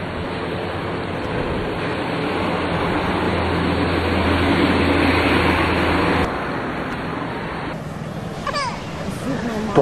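Heavy ocean waves break along the shore at Khao Lak, Thailand, a loud continuous wash of surf that drops partway through, with people talking over the roar near the end.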